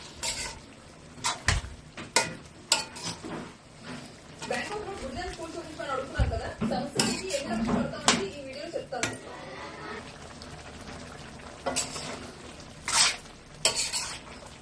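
Fenugreek chicken with tomatoes is stirred in a pan with repeated scraping and clinking of a utensil, over a soft sizzle and under intermittent speech.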